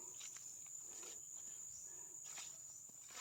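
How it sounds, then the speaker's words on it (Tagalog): Insects, likely crickets, chirp in grassy vegetation outdoors with a thin, steady high-pitched trill. The sound is faint and continuous, with a few light rustles beneath it. "Mga insekto talaga ang ingay."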